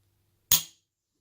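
A Weatherby Vanguard rifle trigger is dry-fired as the sear releases, giving a single sharp, close metallic snap that decays quickly into silence.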